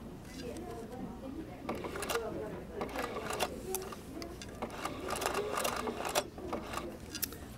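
A sewing machine stitches silk ribbon in a quiet, continuous run of rapid mechanical clatter, with a voice talking over it at times.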